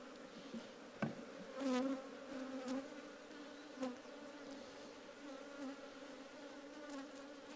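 Honeybees buzzing at an opened beehive, a steady close droning hum with swells as individual bees pass near, plus a sharp knock or two of hive parts.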